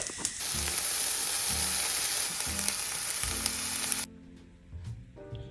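Tofu scramble with mixed leftover vegetables fries loudly in a pan, a steady close sizzle for about four seconds before dropping to a quieter crackle with a few soft clinks.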